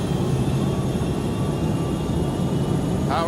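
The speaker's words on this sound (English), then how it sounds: "On takeoff, the 757 performed perfectly." Dense, steady roar of a Boeing 757 airliner's jet engines during takeoff, a loud rumbling wash of engine noise held throughout, with a brief higher sweep near the end.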